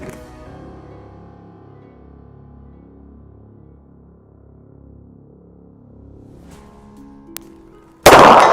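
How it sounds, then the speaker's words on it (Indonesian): A single sharp, loud report from a short-barrel revolver fired at a 50-metre target bursts out at the very end, after a long stretch of quiet low hum. "Sekarang kita akan menembak revolver laras pendek ini pada jarak 50 meter."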